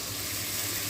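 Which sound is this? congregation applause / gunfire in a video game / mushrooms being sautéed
mushrooms being sautéed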